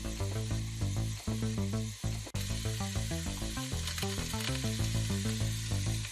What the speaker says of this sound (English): Give everything a nice good stir, get all of those flavors in together.